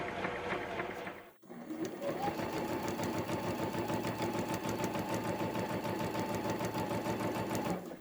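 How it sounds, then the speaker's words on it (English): Sewing machine running steadily while stitching blue strips around the edges of a quilt, a fast even mechanical whir that pauses briefly near the start and then continues loud and close to the end. "I need to get the blue strips sewn all the way around the quilt"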